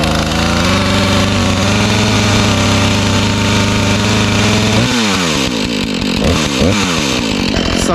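A Husqvarna chainsaw cold-starts during firewood cutting, giving a loud, steady two-stroke drone that stays close and constant before dropping into a rougher, wavering idle with uneven revs.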